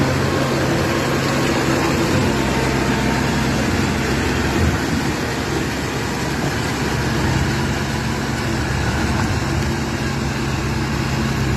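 Tractor converted from a combine harvester working a rice paddy in Iran, a steady loud engine drone with low harmonic hum running continuously throughout, close and unbroken.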